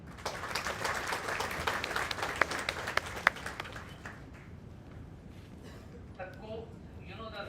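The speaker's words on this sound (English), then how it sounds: "Please clap for her." Audience at a national HR conclave in Gujarat claps for Sudha ma'am, a dense round of applause with a few sharp individual claps that fades out after about four seconds, leaving quiet room noise and faint voices.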